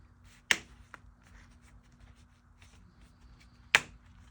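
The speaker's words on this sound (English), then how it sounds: "you're going to hear these tabs click" Plastic tabs on a Think V2 vape's mesh assembly snap into place with two sharp, close clicks about three seconds apart, plus a softer tick in between, over faint handling noise.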